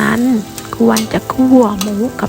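Pork belly fries with garlic in a pan, sizzling loudly and close while something is stirred and scraped now and then. A tonal whine rises and falls over the sizzle.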